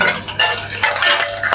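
Camel hump fat sizzles in a pan of butter and oil while being stirred, with bursts of frying hiss and scraping utensil sounds close by.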